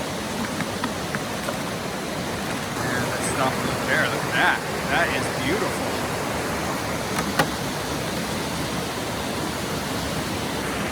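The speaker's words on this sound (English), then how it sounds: "We are crossing this bridge that is over this raging river." A raging river rushes beneath a bridge at Tamanawas Falls in winter, its steady broadband roar filling the scene while a person speaks over it and footsteps crunch on the crossing.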